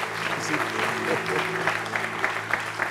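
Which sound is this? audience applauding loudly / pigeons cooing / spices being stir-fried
audience applauding loudly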